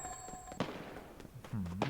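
Sniper rifle shots in the mobile shooter game Badlanders Mobile: two or three sharp cracks, each followed by a brief ringing tail, the last joined by a low hum, over a constant game-ambience bed.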